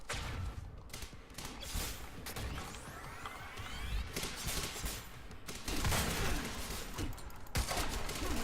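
Gunfire in the video game Quantum Break, with rapid irregular bursts of shots, mechanical clatter and crashing impacts running throughout at close range, without speech.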